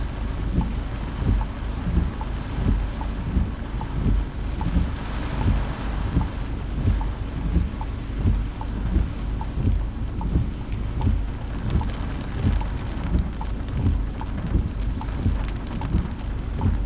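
Steady rain drums on the roof and windscreen of a car while someone drives a test route, heard from inside with low road rumble underneath and no talk.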